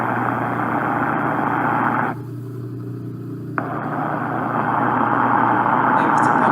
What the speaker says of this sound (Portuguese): um aparelho de ultrassom sendo aplicado aí para de análise de um rolamento de um motor